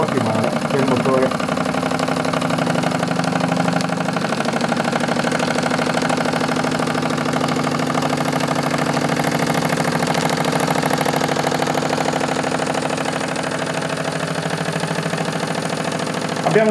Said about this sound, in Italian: Ed ecco qua il Vilesco D16 in funzione.